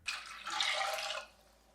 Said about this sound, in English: and then the water.